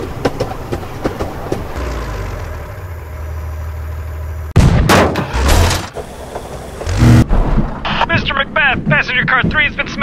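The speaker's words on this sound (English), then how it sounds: "Passenger car 3 has been smashed by a tank." Rumbling train noise with clattering wheels gives way to a sudden loud crash and metallic impacts as a tank smashes into a passenger car in a Henry Stickmin game, followed by shouting voices over the rolling carriage.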